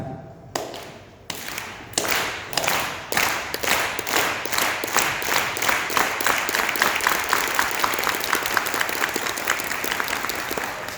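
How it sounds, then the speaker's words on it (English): An audience performs the farm worker clap at a Woodburn, Oregon non-profit gathering, starting with a few slow, separate claps that speed up into steady, rapid unison clapping filling the room. "You can please join me for the farm worker clap"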